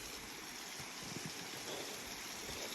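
Water flowing over Umbrella Falls on the North Fork Nehalem River, a faint, continuous rushing wash heard at a distance, steady without talk.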